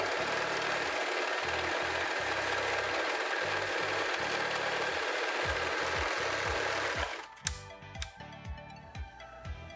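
A Sun Special SS-320 domestic overlock sewing machine stitches a test seam in rapid bursts of whirring, loud and close, then stops and gives way to clicks and light handling sounds at the end.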